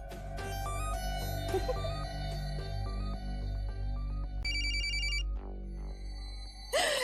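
A telephone rings with a repeated electronic ringtone, loud and close, several bursts of tones over a steady background with no talking.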